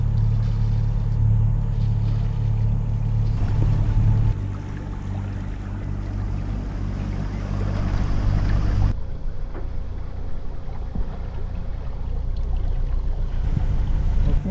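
Steady low engine rumble of a sailboat motoring out of Pollença bay, with wind and water noise, continuous and close.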